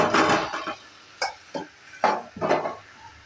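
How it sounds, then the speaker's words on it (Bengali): Fried eggs and potatoes tipped into a pan of cooked-down masala, giving a few sharp clinks and knocks of utensil against the pan, spaced irregularly with a soft sizzle between. "এবার দিয়ে দিচ্ছি ভেজে রাখা ডিম আর আলু।"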